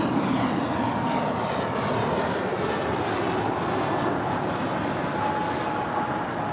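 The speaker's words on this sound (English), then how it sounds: "Here we have Alaska 503, nonstop to Seattle. It's a 5-year-old A321." A five-year-old Alaska Airlines Airbus A321 jet departs LAX for Seattle with a steady, loud, broadband engine roar that holds constant throughout the clip, with no voices.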